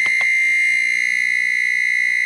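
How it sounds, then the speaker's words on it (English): A loud, piercing electronic buzzer tone from a Dash Go rapid egg cooker sounding continuously, shrill and alarm-like, with no other sounds. "a buzzer goes off so you know the eggs are finished cooking"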